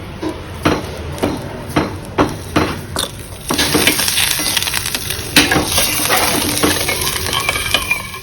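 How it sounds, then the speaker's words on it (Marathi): Boiled potato pieces crushed into a simmering fasting curry in a pan, with a run of sharp rhythmic metal taps and scrapes followed by a steady bubbling sizzle, close and fairly loud. "एखाद दुसरी फोड अशी कुस्करून घालायची आहे त्याच्यामध्ये"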